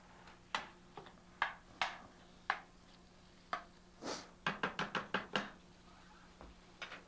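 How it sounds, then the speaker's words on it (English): A knife chops through an onion on a cutting board in quiet, close, crisp strokes, first a few spaced cuts, then a quick run of rapid chops near the end, with no voices. "I'll finish cutting this onion up."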